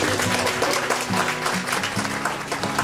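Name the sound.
applause for a woman entrepreneur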